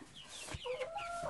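Chickens cluck and squawk on a farm, giving a few close, fairly quiet, irregular calls with a brief rising squawk near the end.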